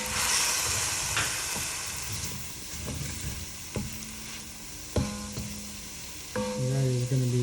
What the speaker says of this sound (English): Obviously get our roux going here.